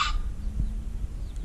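Hens in a farmyard coop, one of them sitting broody, give low, short clucks that sit close and fairly quiet over a steady background hum, with no talking.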